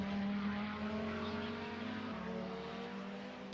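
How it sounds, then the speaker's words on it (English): Classic DTM touring race car at full throttle in a racing video game, a sustained engine drone with high harmonic whine and turbo whistle, steady and close throughout with no pauses. "Just hear that turbo whistle."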